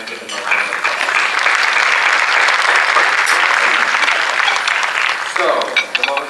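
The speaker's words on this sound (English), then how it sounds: "give them a round of applause" Loud, sustained audience applause at a chamber of commerce state-of-the-city luncheon fills the room for about five seconds, then tapers into scattered claps.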